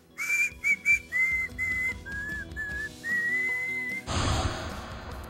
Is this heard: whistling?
yes